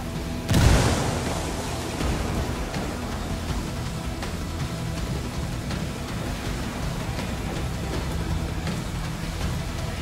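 A frag grenade in Ghost Recon goes off with one sharp, loud boom near the start, followed by a long rumbling, noisy tail of ambient combat sound.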